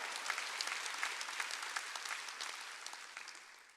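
Congregation applauding during a Wednesday church service, a steady wash of many hands clapping that slowly fades toward the end, with no voices over it.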